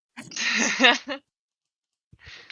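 A voice imitates a sneeze during a tabletop Pathfinder role-playing session, giving one drawn-out, exaggerated sneeze followed by silence and a brief, quiet sound afterward.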